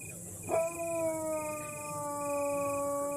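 A dog howls close by, one long sustained wavering howl that starts abruptly and holds steady to the end, fairly quiet, with no talk over it.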